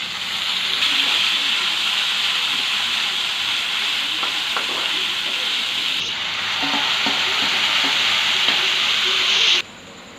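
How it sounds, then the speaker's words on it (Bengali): Rice frying loudly in hot oil in a pan with potatoes and spices for a fish head dish, a steady close sizzle and hiss with occasional stirring scrapes, cutting off near the end. "এখন চালগুলো দিয়ে আরেকটু ভেজে নেব।"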